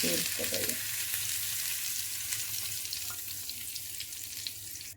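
A bright, hissing sizzle as a hot oil tempering with curry leaves hits beetroot chutney, a brief burst of crackle at the start settling into a steady fizz.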